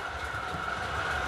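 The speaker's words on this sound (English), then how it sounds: "I'm just running some trains" Model trains run on a home layout under automatic control, giving a steady continuous rumble and hum close by with no clear talk over it.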